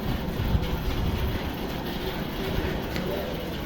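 At Barharwa railway station a train gives off a low, steady rumble, fairly faint and distant, with a few muffled voices in the background.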